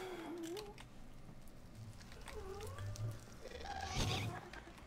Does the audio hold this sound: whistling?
no